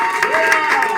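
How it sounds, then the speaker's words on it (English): A studio audience at a comedy improv show applauds to award points to a contestant after a game, a short burst of dense clapping with some crowd noise mixed in. "if you enjoyed that game and wanted to give Wafik points, applaud now"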